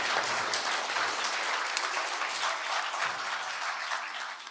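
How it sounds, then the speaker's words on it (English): A conference audience applauds a speaker, a dense, steady wash of many hands clapping that runs evenly throughout and tapers only slightly at the end. "Can we, just before we start, just give Judith a round of applause"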